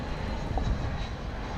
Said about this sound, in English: I know we were supposed to look at that plane coming in there